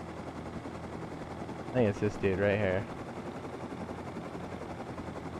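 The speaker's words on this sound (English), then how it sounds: "I just don't want to crash the helicopter." A helicopter in the video game Rust produces a constant whirring drone throughout, with someone briefly speaking over it.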